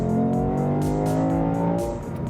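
A 2022 Lexus IS500 F-Sport engine revs hard above 2,800 RPM with its intake bypass tube open, a loud, rising, throaty roar heard from the cabin, climbing steadily before easing off near the end.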